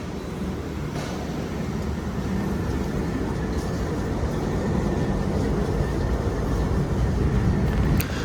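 Steady rumble inside a KRL commuter train pulling out of Lempuyangan station, a continuous low roar of wheels and motion with faint clicks and no talk.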